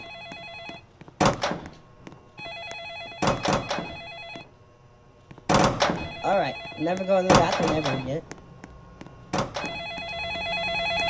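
An in-game telephone in a scary Roblox gas station game rings in repeated bursts of sharp electronic trills separated by pauses, with a thump and a person talking between the rings.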